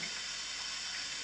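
Cold water running steadily from a tap, a soft even hiss and gush that holds constant throughout, fairly quiet and alone with no voices.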